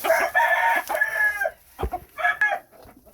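A Phoenix rooster crows close by, a long harmonic call followed by a shorter second crow with a few clucks in between.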